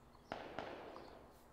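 Two sharp gunshot cracks in quick succession in PUBG gameplay, distant and fairly faint, followed by a quiet lingering background.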